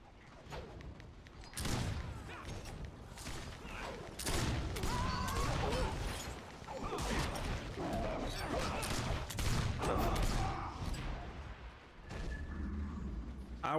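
Grenades and phosphor shells burst in rapid succession during Warhammer Online combat, a dense, loud barrage of overlapping explosions and crackling impacts with brief lulls between volleys.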